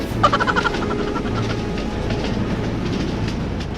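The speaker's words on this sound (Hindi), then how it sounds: "ट्रेन चंपकला स्टेशन पर आकर खड़ी हो जाती है" A train pulls into Champakala station, its wheels clacking in a quick rhythm at first before settling into a steady low rumble as it slows, with no voices.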